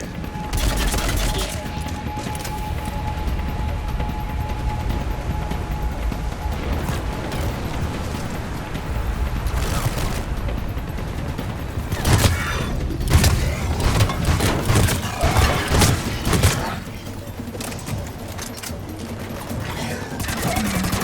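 Sustained gunfire in the video game Mass Effect 3, loud overlapping shots, bursts and booms filling the whole stretch, with game voices speaking over the combat.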